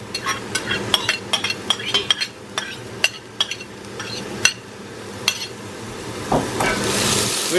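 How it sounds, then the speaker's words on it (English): Garlic and onions hit warmed olive oil in a pan for spaghetti sauce with beef mince, with a spoon scraping and clinking against the pan in sharp taps while a steady sizzle swells loudly near the end. "now we're going to put in our garlic and onions"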